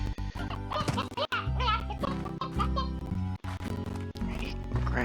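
Chickens cluck in the farming video game Slime Rancher, with short repeated bursts over steady game music and other background sounds.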